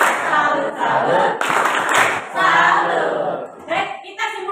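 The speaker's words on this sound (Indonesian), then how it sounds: "kita berikan tepuk tangan untuk kelompok 5" A class claps together in applause, bursts of hand claps with rhythmic chanting voices mixed in, fairly loud and close.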